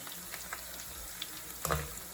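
Red and green chillies with curry leaves frying in hot oil for karhi pakora: a steady soft sizzle with faint crackles and a brief louder spatter near the end.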